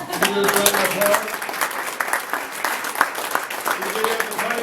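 Guests at a scholarship awards luncheon clap for an honoree, a moderate room-sized burst of applause mixed with voices and talk from a speaker over it.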